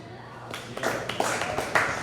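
Audience members at a live comedy show in a brewery clap in a loose, uneven patter of sharp claps, with talk and room noise underneath.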